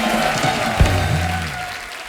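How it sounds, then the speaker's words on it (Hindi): Studio audience on a Hindi comedy talk show breaks into a sustained wash of clapping that stays steady throughout, fading slightly toward the end, with no clear talk over it. "एक बार मनीषा जी और महिमा जी के लिए जोरदार तालियां हो जाए"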